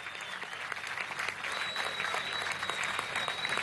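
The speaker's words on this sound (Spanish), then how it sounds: "Vamos a darle un aplauso a todos los atletas y deportistas olímpicos." Crowd applause for Olympic athletes at a Venezuelan government event in Monagas, a steady broadband clapping that swells after the first second and stays dense and even through to the end.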